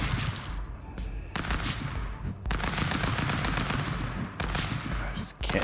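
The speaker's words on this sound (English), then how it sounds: "Bullets going everywhere." Video game gunfire in Stick Fight: dense, continuous rapid shots and bursts, loud and close, with brief gaps between volleys.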